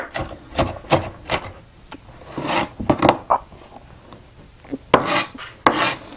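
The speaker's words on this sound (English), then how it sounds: "then you just kind of rough chop them some more" An onion is rough-chopped with a knife on a cutting board, giving a series of close, crisp cuts in irregular bursts with short pauses between them and no voices.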